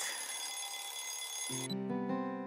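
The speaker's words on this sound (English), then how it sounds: "I was woken up by the noisy alarm clock." An electronic alarm clock in the video game Nameless rings with a bright, steady high-pitched trill, then cuts off and a soft chime of game music follows.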